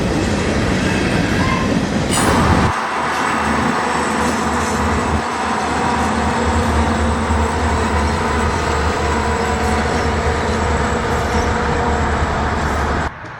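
A long freight train, including old DM&E railway cars, rumbles steadily past nearby with continuous rolling wheel noise and rail clatter, loud and constant throughout, with no talk.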